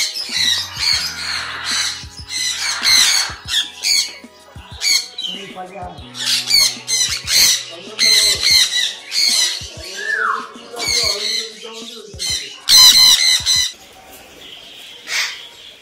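Several macaws in a cage squawk loudly at close range, with harsh, repeated bursts coming in irregular clusters and short pauses between them, and a few quieter calls mixed in.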